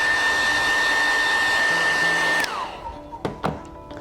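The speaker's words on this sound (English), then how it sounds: "I'm then going to use the hairdryer to quickly speed that up" A hair dryer runs loud and steady, blowing warm air to dry glue on a torn leather jacket during a repair, then switches off and its whine winds down, followed by a few soft handling thunks.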